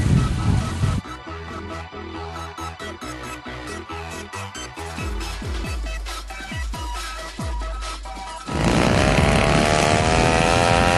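A small unmanned airplane circling overhead, its propeller engine giving a steady buzzing drone that swells loud and close, dips, then surges again near the end, heard alone without talk.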